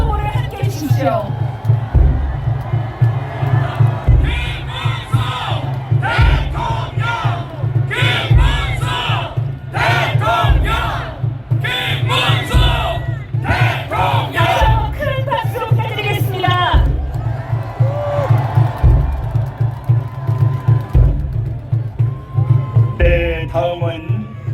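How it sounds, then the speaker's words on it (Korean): Large outdoor crowd at a presidential election rally in Seoul City Hall Plaza cheering and shouting in repeated rhythmic bursts over a steady low drum-like pulse, with loud continuous crowd noise throughout. "시민 여러분 큰 박수와 함성으로 우리 김문수 후보를 함께 해주십시오."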